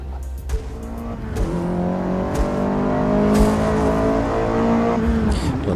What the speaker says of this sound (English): You can hear that turbocharger.